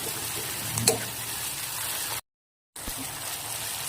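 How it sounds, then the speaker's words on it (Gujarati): Tomatoes cooking in a pan for a paneer masala gravy give off a steady, soft sizzle and fry noise, with a brief stir near the start and a short dropout partway through. "હવે ટમેટા સોફ્ટ થાય ત્યાં સુધી આપણે એને ચડવા દઈશું"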